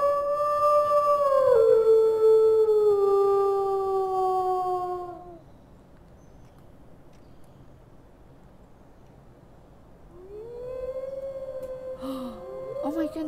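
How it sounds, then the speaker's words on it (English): A wolf in the video game WolfQuest lets out long, loud, wavering howls, one sustained call fading out and a second rising howl after a quiet gap. "He's gonna stop here and he's gonna howl."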